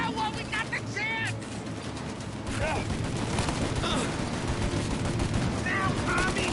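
Rapid machine gun turret fire from Mafia Definitive Edition rattles loud and continuous, bursts overlapping with game music and shouting voices throughout.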